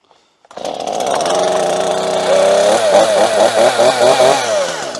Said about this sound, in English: so let's see how this MS172 starts